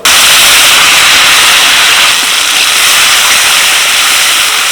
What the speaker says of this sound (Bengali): টমেটো পেস্টটা একটুখানি কষিয়ে নেব এক মিনিট মতো নাড়াচাড়া করে নিলাম